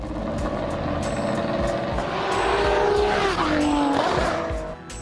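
A Ferrari 599XX supercar with a modified 6-liter, 730-horsepower V12 screams loudly as it drives, its pitch rising and falling through gear changes. A brief tire squeal and a sliding downshift in pitch come near the end.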